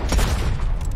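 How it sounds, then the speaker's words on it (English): Gunfire in Red Dead Online, a burst of booming, overlapping shots with a heavy low-end thump, loud and close for about a second with no talking. "Why are they shooting at me?"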